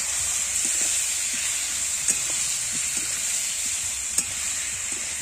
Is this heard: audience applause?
no